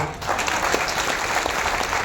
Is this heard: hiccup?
no